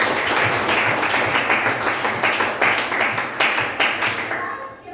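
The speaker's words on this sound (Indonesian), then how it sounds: "Berikan tepuk tangan." A classroom of students claps together, a dense, steady round of applause that stays loud for several seconds before breaking off abruptly.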